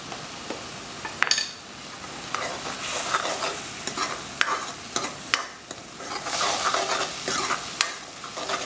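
Masoor dal with tomatoes frying in oil, a continuous soft sizzle under repeated stirring and occasional sharp clinks of a spoon against the pot, close up and without speech.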